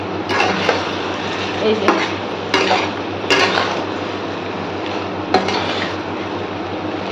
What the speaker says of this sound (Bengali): এখানে চিকেনটা কষাচ্ছি এখন